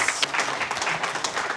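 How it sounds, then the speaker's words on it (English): A studio audience gives a short burst of applause for a guest named Dee, a dense, moderately loud patter of many hands clapping together. "let's give Dee a big round of applause"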